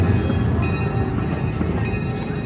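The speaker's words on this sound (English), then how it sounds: "The train takes you round a section of the park called" Steady low rumble of a small passenger train at a Stirling, Scotland safari park, pulling in near the station on a ride around Lemur Land; continuous, fairly loud and close, with faint metallic ringing above and no talk.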